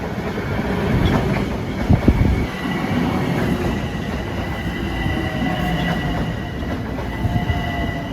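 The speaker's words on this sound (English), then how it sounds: "Here's train 1124 from Penn Station to Massapequa at 7:02." An LIRR commuter train of M7 cars runs through Forest Hills station during the morning rush, a loud close rumble with rhythmic wheel clatter, squeals and a steady electric whine.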